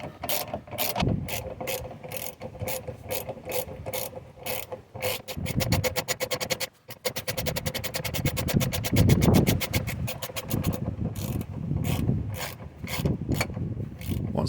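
A ratchet tool drives in the E18 bottom shock bolt on a Vauxhall Astra H during a rear shock and spring change. Rapid clicking comes in bursts, with one fast continuous run in the middle, close up and with no talking.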